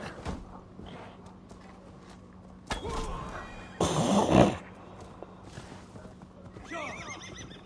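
A chunky horse whinnies and its hooves clop and thud in uneven bursts, one loud neigh standing out near the middle among quieter scattered steps and knocks.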